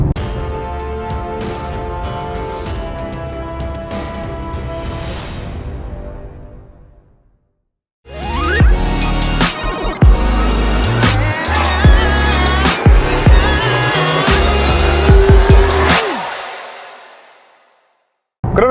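A Mercedes-AMG GLC 63 S Coupe, a roughly 500-horsepower SUV, sounds its exhaust: a loud, steady drone that fades out, then after a short silence a hard, rising revving roar with crackles, cutting off abruptly at the end.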